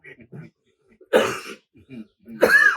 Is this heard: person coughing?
yes